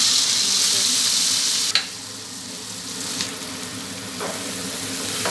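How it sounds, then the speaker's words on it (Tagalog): Onion and tomato sauté in a pan for shrimp paste, a loud, close, continuous frying hiss with a sharp clatter as they hit the pan and a few light stirring scrapes. "ilalagay natin yung sibuyas at saka kamatis."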